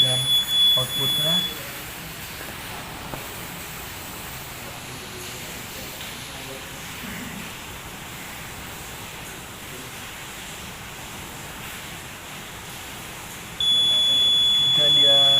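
A homemade fire detector with a gas sensor sounds its buzzer: a thin electronic tone at the start and again near the end, with steady hiss and muffled room noise in between.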